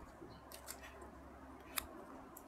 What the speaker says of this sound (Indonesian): Tuh, gunting.